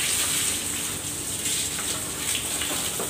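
Water sprays steadily during a car wash, a continuous close hiss and splatter with no pauses and no voices.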